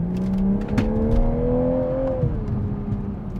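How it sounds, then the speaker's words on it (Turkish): A 2021 Toyota Supra's engine in normal mode rises steadily in pitch as it accelerates gently, exhaust humming close by with a smooth, continuous drone. "Şöyle yavaştan hızlandırayım."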